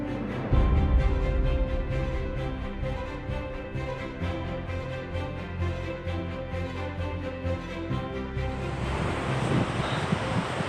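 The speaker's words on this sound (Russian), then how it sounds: "И действительно красивый водопад." Icelandic waterfall in winter, heard as a constant roaring rush of falling water with a windy, noisy character. The sound holds an even level throughout, with no talking.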